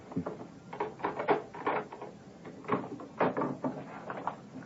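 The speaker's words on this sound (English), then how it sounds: "hold the groceries while I open the door" A radio-drama door sound effect: a key is worked in a lock and the door is opened, giving a run of close clicks, rattles and knocks in irregular bursts with no talk.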